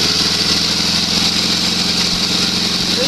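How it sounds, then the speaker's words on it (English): An Onan engine on a Sears SS16 garden tractor runs steadily at a loud, even idle with a smooth, continuous drone and no speech. "This one seems to run pretty smooth."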